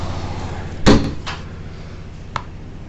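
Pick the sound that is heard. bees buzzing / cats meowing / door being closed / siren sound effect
door being closed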